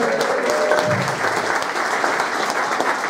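Steady audience applause at a motorsport racing club media day, a dense, even patter of clapping from a crowd lasting the whole stretch with no voices on top.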